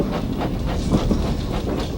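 Thomas the steam engine chuffing across a stone bridge, giving a steady, loud rolling rumble with a faint rhythmic beat and a soft hiss, heard on its own.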